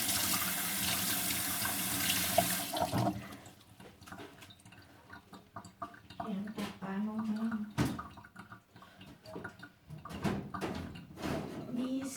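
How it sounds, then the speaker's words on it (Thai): Tap water gushes loudly into a kitchen sink for about three seconds while hands are washed, then stops, followed by quieter clattering and handling sounds with someone talking intermittently. "ล้างมือแป๊บนึง"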